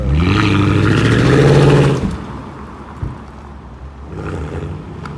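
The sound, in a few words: car accelerating hard from a standing start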